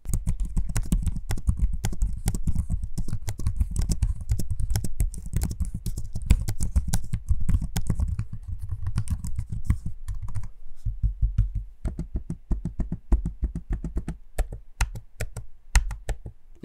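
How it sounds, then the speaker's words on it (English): Rapid, steady typing on a Lenovo ThinkPad P1 Gen 6 laptop keyboard with crisp clicky taps, interspersed with occasional trackpad clicks, close and clear with no talking. "here's a quick audio sample of me using the keyboard and trackpad"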